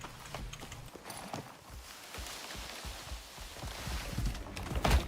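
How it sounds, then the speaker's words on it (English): Horses gallop and fight in the open-world survival video game Icarus, with a rapid, continuous clatter of hooves that grows louder toward the end. "there's teleporting horses over here fighting"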